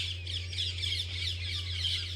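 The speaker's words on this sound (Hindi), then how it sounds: "रास्ते में दिखा हमको पुराने जमाने का पेड़ और इस पर चिड़िया कैसे चहचहा रही हैं।" Birds chirp and squawk continuously at moderate distance from an old tree over a steady low hum, no talking.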